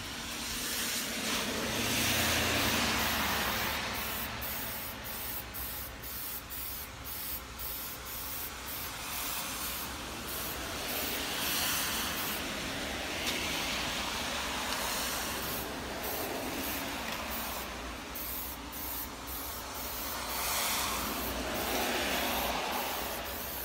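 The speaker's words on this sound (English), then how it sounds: "We need to re-hit that because there's a little bit of overspray." Steady hiss of a spray gun painting a car, running continuously for the whole stretch in pulses of varying strength, close and loud, with no talking.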